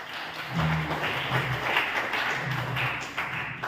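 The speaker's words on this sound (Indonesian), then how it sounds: "Tepuk tangan dong" Students and lecturers clap inside the DPRD Kota Malang council building during a writing workshop, a steady moderate round of applause with a low hum underneath, lasting a few seconds.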